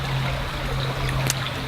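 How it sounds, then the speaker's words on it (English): Water pours steadily into cattail pollen pancake batter with a soft, continuous trickling splash, close and alone. "Now add just enough water to make a nice runny batter."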